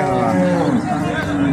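A cow moos loudly and close at a Brazilian cattle market in Tupanatinga, Pernambuco, with one sustained low call and crowd noise in the background.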